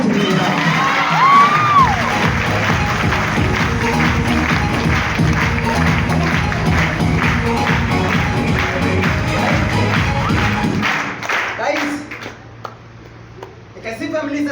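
A large audience of about 450 people at a motivational talk claps and cheers loudly and steadily with whoops and shouts, dense and close, then thins out near the end.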